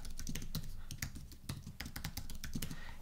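Quick, steady keystrokes on a computer keyboard as an email address and password are typed for a sign-up form, close and clear with no talking.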